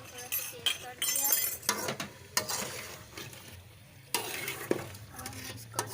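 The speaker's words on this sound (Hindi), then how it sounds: "अब हमने इसको अच्छी तरह से भूनना है।" Kadahi gosht frying over a high flame, with a steady broad sizzle, repeated stirring scrapes and occasional metallic clinks of a spoon against the wok, while a person talks over it.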